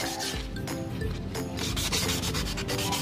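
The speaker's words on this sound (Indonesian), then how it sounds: "itu pakai amplas yang kasar dulu ya" Steady, coarse abrasive rubbing of coarse sandpaper across a metal engine block, smoothing a deep scratch, continuous and close, with rhythmic back-and-forth strokes and no voices.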